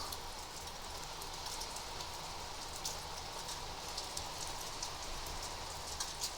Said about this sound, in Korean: 비가 아까보다 더 세차게 내리는 것 같아요